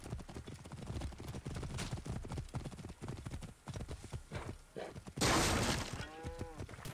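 Rapid hoofbeats clatter in a steady galloping rhythm under game music and effects in Assassin's Creed Origins, during a horse race, followed by a sudden bright crash near the end.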